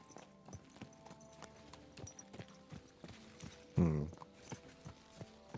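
Horse hooves clip-clop at a steady walking rhythm in the video game Kingdom Come Deliverance II. The footfalls are fairly faint and evenly spaced, with one brief louder snort or burst midway.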